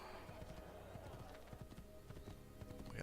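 Horse hooves clatter at a steady gallop in Assassin's Creed II, a dense rhythmic clip-clop running under busy game sound and music, with a voice talking over it.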